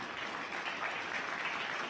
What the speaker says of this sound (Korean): 멋진 공연을 보여준 용사들에게 큰 박수 부탁드립니다